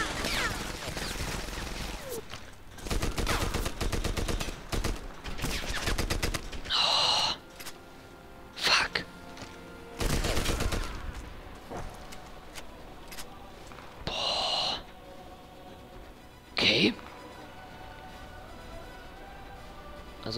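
Bursts of gunfire and shotgun blasts in the Medal of Honor: Airborne video game, loud and irregular, with several sharp shots standing out over continuous battle noise and someone talking throughout.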